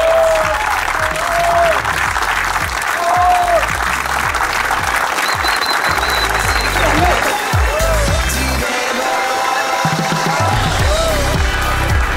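A crowd applauds steadily at a ceremony honouring a tennis player, a continuous loud clapping wash with crowd noise and gliding tonal sounds above it, and voices mixed in.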